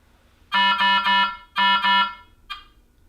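Speaker test alarm tone from an ultrafiltration machine: a loud, bright electronic beep pattern, three quick pulses then two more, followed by a short faint chirp, clear over a quiet background.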